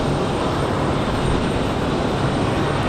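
An Alaska Airlines plane in from San Diego at Raleigh Durham International Airport, heard as a steady, broad jet roar that holds constant throughout with no talking.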